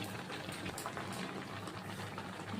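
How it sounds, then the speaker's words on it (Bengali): Milk simmers in a pot over low heat, giving a steady, faint bubbling hiss that runs without pause and with no voices. "এইভাবে কম আঁচ দিয়ে এটাকে সেদ্ধ করতে হবে।"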